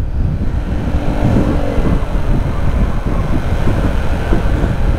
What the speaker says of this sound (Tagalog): Malamig ng hangin.